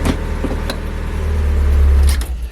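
A Mazda MX5 engine idles inside a closed garage, a loud, steady low rumble that swells slightly and then eases, heard close with no talking.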